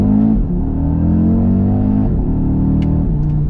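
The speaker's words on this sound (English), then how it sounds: "That 5-cylinder sound though, regardless of what car you're in, sounds tremendous." The five-cylinder engine of a 2020 Audi RS Q3 Sportback growls loud and close under hard acceleration, a sustained throaty drone with a brief dip at a gear change.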